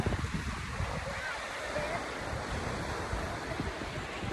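Ocean surf at Duli Beach at low tide washes in a continuous rushing hiss with buffeting wind on the microphone.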